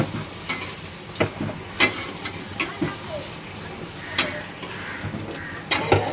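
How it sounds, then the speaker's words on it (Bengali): Fried potatoes lifted from sizzling oil into a bowl while cooking a Bengali-style chicken dish, giving a steady close crackle of frying with several sharp scraping clinks from a utensil at irregular intervals. "আলুগুলো এখন আমি তুলে রাখছি একটা পাত্রে"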